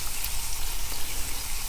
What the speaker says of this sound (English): with this chicken sizzling